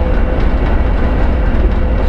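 A ChME3 shunting locomotive hauls ten wagons up a grade on station shunting duty, giving a steady, loud low engine rumble with a constant rolling drone throughout.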